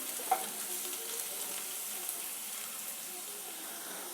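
Chopped onion fries in a pan with a steady, close hiss of sizzling oil and a soft clink or two from stirring, with no talking.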